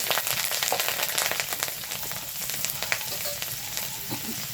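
Green chillies and black cumin hit hot oil in a pan after fish heads have been fried, producing a loud, crackling sizzle with sharp spattering pops that slowly settles into a steady fry.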